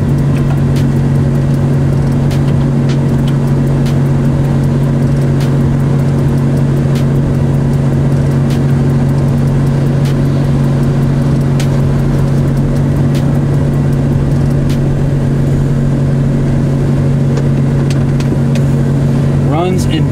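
Ram pickup truck driving, a loud, steady engine hum with a constant low drone heard from inside the cab throughout, with a person talking over it.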